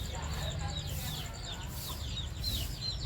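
Chickens cluck and chirp faintly around a rooster on a small farm, soft intermittent calls over a low steady rumble of background noise.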